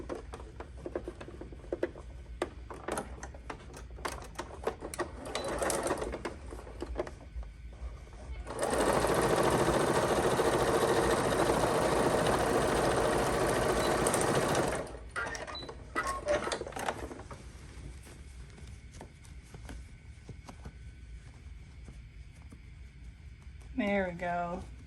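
A sewing machine stitches fabric for smocked pants in one steady, whirring run of about six seconds, with clicks and handling noises before and after.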